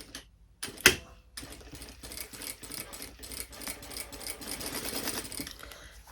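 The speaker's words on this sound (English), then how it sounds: "I'll drop the stitch down to a 2, and I've got it right on the edge, so within that centimetre seam allowance. back tack it." A sewing machine stay stitching along the edge of a bias-cut curve at stitch length 2, then back tacking, runs as a steady rapid mechanical whir after a brief clack, moderately close and with no talk over it.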